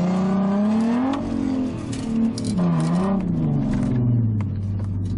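Toyota Hilux pickups rev hard as they spin and change direction nose to nose. The engine note rises and falls in loud, sweeping surges, with throaty whirring and no talk.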